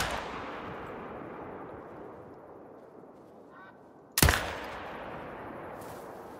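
A single sharp rifle shot in theHunter: Call of the Wild, on an African hunting reserve, cracks loudly and alone over a quiet outdoor ambience, with a short decaying tail.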